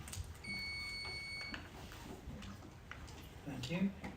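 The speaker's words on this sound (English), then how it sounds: "Buzzer check." Quiz buzzers at an academic Latin certamen competition are tested in turn, a steady electronic beep sounding clearly for about a second amid room noise and an announcer's voice.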